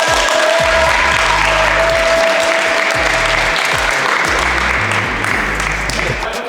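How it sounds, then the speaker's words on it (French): Crowd clapping at a karting Grand Prix awards ceremony, a sustained, loud and even wash of applause lasting several seconds, with low rumbling thumps underneath. "On applaudit."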